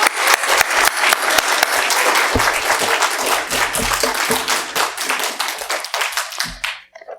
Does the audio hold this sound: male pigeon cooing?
no